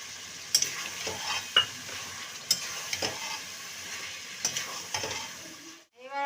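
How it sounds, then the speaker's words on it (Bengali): Mutton frying in a pan after tomato and green chili paste goes in: a soft continuous sizzle with periodic spoon scrapes and stirring clinks, close and moderately quiet. "আমি এবার এই টমেটো আর কাঁচা লঙ্কা বাটাটা আমি দিয়ে দিচ্ছি"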